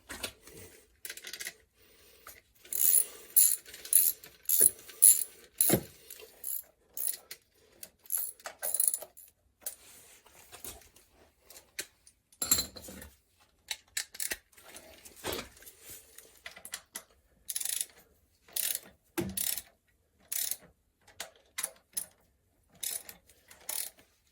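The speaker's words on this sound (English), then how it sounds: "I'm going to tighten them up with a regular ratchet" Regular ratchet snugging down 5/16 bolts on a whole house trap, heard as repeated quick bursts of close, crisp clicking between pauses, with some metallic handling noises and no speech.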